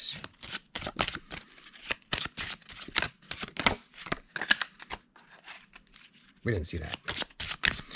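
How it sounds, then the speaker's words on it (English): A deck of game cards is riffled and shuffled in a series of rapid, close crisp bursts, repeated several times, with quiet talk between shuffles. "We'll shuffle these up just in case."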